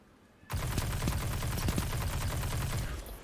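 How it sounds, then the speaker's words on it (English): Gunfire in the Destiny 2 Crucible Supremacy mode erupts suddenly, a loud, sustained burst of rapid shots with no talk over it. "someone just taking a shot at me"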